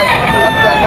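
A rooster at a Grotto pet market in San Jose del Monte, Bulacan, crows briefly and loudly amid steady market noise, with faint background voices.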